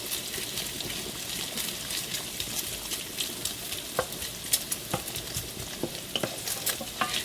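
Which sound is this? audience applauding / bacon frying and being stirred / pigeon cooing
bacon frying and being stirred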